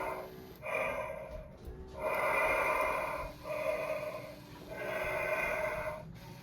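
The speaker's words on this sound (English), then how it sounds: "you can hear that it's just him breathing" Slow, heavy mechanical breathing from a Spirit Halloween Michael Myers animatronic prop repeats in long drawn-out breaths, rasping and hollow, with short pauses between each breath.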